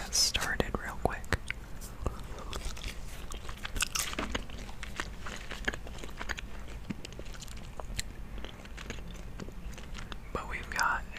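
Someone chews peppermint Cobalt gum close to the microphone, producing repeated soft wet smacks and crunches in an irregular rhythm, mixed with whispering during a relaxed gaming session.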